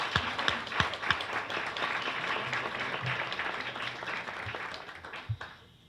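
Audience applause at a presentation of a decalogue on girls' inalienable rights, a dense wash of clapping from a crowd with a few sharper claps standing out, steady for several seconds before thinning near the end.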